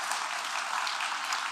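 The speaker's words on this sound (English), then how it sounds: "So can I have an applause," Audience applause for a panelist at an entrepreneurship and AI panel, a steady wash of many hands clapping, even and moderately loud throughout the short stretch.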